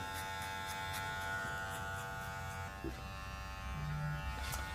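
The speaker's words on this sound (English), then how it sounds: "And then I can fully close and just work on that line. until the clipper doesn't cut anymore." Electric hair clippers buzz steadily at close range while cutting hair during a platinum blonde makeover, with a constant motor drone and small shifts in tone as the blade works along a line.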